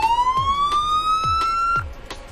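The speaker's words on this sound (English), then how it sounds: "This is your siren." A police siren on a truck in the Roblox game Trucking Empire wails with a steadily rising electronic tone, loud and close, while rhythmic low thumps repeat about every half second beneath it before the siren cuts off.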